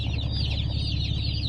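A box of about a hundred broiler chicks, just collected from the post office, chirps constantly in a dense, high, overlapping chorus, loud and close with no pauses.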